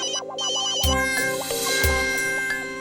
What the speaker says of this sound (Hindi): फोन बज रहा तेरा फोन बज रहा है।